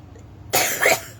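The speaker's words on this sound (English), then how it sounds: "Like coughing." One person gives a short double cough, close and fairly loud, with a sharp first burst and a second one trailing after it, in an otherwise quiet room.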